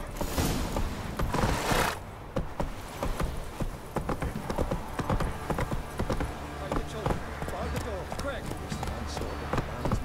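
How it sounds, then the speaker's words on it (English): Hooves of a horse trotting in The Witcher 3, a steady clip-clop rhythm that runs close and clear through the whole stretch, with a voice talking over it at times. "Whoa there, Roach. Come on, Roach"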